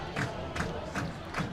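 A crowd cheers at a high school football game, heard as a distant, sustained roar that swells in short pulses, moderately loud.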